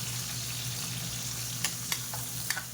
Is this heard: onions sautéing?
yes